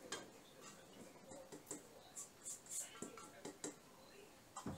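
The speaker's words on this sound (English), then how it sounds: "We give it a little mix, get that turned in" Butter, garlic and chopped parsley being stirred together in a bowl, quiet irregular scrapes and clinks of a utensil against the dish, faint and close.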